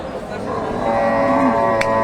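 A cow moos at a busy village cattle market in Bogura, one long low drawn-out call rising over a steady crowd murmur, with faint voices around.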